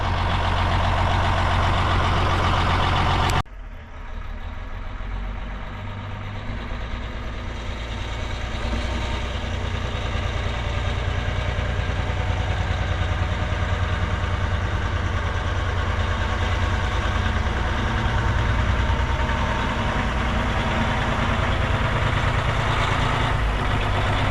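A truck engine runs loud and steady at close range while the vehicle is moved around to the shop, a continuous heavy low rumble after a brief abrupt dip near the start.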